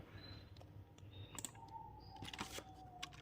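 Quiet, close keyboard typing of a Linux shell command, a quick irregular run of light key clicks with a few sharper taps.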